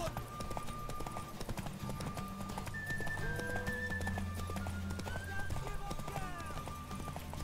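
Steady galloping hoofbeats drum throughout over The Witcher 3: Wild Hunt game music, with a horse's whinny partway through; loud and continuous.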